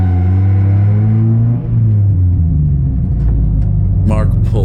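An endurance race car at a ChampCar event rolls into the pit lane, its engine droning loud and close at low speed, its pitch falling as it slows, while someone talks over it.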